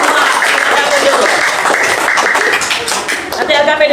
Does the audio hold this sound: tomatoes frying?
no